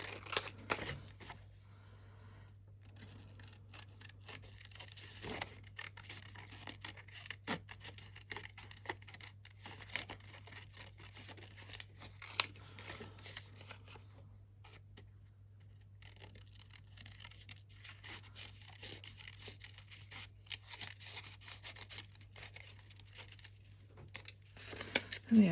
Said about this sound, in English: And then you take your scissors and just rough it up.